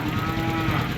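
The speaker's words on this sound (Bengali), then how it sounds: "এগুলো সব সার গরু আছে সার গরু" A bull moos at a cattle market, one close, loud, sustained low bellow that fills the whole moment.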